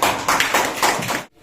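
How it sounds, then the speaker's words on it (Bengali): Quick, rhythmic hand claps from a group sound close and lively for about a second, then stop abruptly into silence. "হাততালি।"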